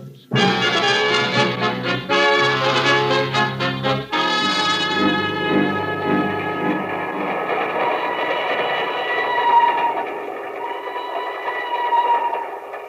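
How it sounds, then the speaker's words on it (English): Rhythmic train-on-rails sound effect for an old-time radio drama, a train swaying across a high chasm between mountains at night in Nigeria; steady rolling clatter with musical tones over it, loud and continuous throughout. "Two men stand on the swaying observation platform of a train which winds its way across a yawning chasm between two mountains."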